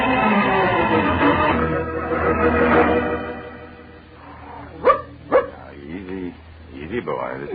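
A dog barks twice in quick succession within a radio drama, sharp and fairly close, after a stretch of talking, with more voices continuing around and after the barks.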